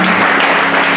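Congregation clapping together at a Bible institute certification ceremony as a student stands to be honored, a brief, loud, even burst of many hands applauding with no speech on top.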